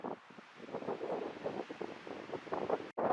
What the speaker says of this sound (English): All the wind is just kind of whipping up over my area.